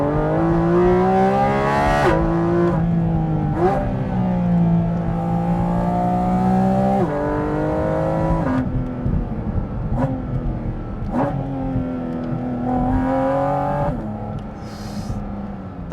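A Porsche GT4 RS engine revs hard under acceleration, climbing in pitch through repeated upshifts with brief drops between gears, loud and continuous from inside the car.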